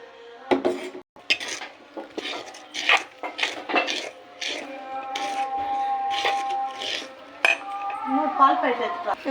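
A utensil mixes ground paste into sattu flour in a metal vessel, clinking and scraping against the sides in quick, repeated strokes. The sound is close and fairly loud, with short pauses between strokes.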